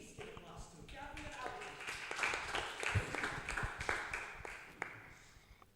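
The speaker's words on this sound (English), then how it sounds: "Please give applause to Gabriel" Audience at a Gavel Club meeting clapping for a speaker, a steady patter of hands from a modest crowd, moderately quiet, with some voices mixed in.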